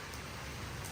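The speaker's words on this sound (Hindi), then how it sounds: "बारिश, इतनी तेज़ बारिश हो रही है" Heavy rain pours down during Cyclone Garance in Mauritius, a steady dense hiss filling the brief moment with no voices over it.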